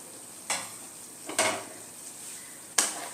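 Fenugreek leaves tossed into a pan of softened peas for a methi matar malai dish, with a faint background sizzle broken by three sharp scraping clatters of a spoon against the pan.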